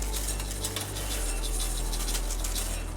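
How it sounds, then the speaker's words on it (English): Basmati rice, 200 grams, poured into a cooking pan for chickpea pulao, making a steady, close granular patter of grains that hisses without pause for about three seconds. "So this is 200 grams of basmati rice. We are just straightforward adding it in our pan."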